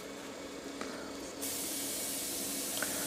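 An airbrush sprays green Crawford & Black acrylic ink in a steady close hiss, which jumps louder and brighter about halfway through as the flow opens up and then holds steady.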